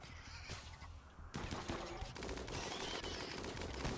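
Video-game gunfire in Rimworld: a quieter stretch gives way to a dense, continuous volley of overlapping shots that stays loud and steady to the end.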